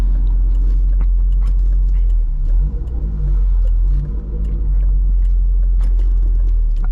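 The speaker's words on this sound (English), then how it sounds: "it is really fun to just drive around with the loud exhaust" Chevrolet C6 Corvette Grand Sport with a loud aftermarket exhaust, a deep steady engine drone and rumble from inside the car while driving, with brief swells as the throttle changes.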